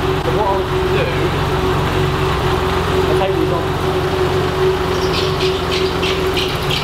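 A BMW E30 engine runs at a steady, fairly loud idle with a constant low hum and faint belt whine, heard alongside a little background noise rather than a clear rev.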